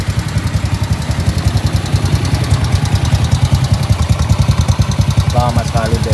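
A BMW motorcycle engine idles up close, loud and steady, with a fast regular thumping pulse, and someone talks briefly over it near the end.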